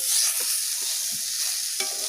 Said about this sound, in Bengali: দুবার করে মাছ ভাজছি